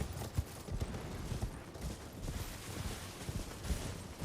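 Rhythmic hoofbeats clip-clop steadily at a quick pace, a galloping horse in Elden Ring with a low rumbling background.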